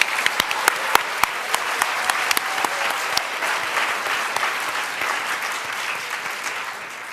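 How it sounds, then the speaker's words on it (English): An audience at an evening reading event claps steadily and loudly, dense applause with sharp individual claps standing out, sustained throughout without speech. "Can we have another round of applause for all the girls who have read thus far tonight?"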